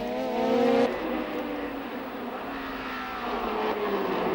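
Vintage racing cars lapping the Montlhéry circuit at a golden-age historic Grand Prix, a steady broad engine roar that swells and recedes as cars pass at moderate distance, with no talk.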